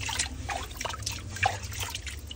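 Water trickling at Saraswati Kund, a temple pond on a Pathibhara pilgrimage: a soft, continuous gentle flow with faint scattered drips, quiet and nearby.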